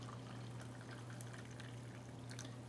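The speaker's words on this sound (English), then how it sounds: "we'll be using some hot water on that to get this reconstituted back up into a liquid" Hot water pours steadily into a Russian Federation IRP military ration food pouch, a continuous close splashing and trickling over a low hum, with no talking.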